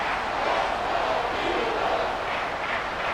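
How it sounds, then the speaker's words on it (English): A Madden 24 video game stadium crowd at a New York Giants at Philadelphia Eagles matchup roars in a dense, sustained wash of cheering that swells slightly and holds steady throughout. "This crowd turning up the decibel level"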